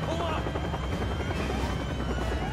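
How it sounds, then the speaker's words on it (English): Helicopter in the Resident Evil 6 video game, a steady loud rotor buzz and whine that runs throughout the clip. "Leon, you can't fly a helicopter for shit"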